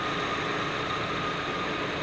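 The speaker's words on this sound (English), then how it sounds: "We start it up with the engine in park, then we check the fluid." A car engine idles in park with a steady, unbroken hum and no talk, holding the same level for the whole stretch.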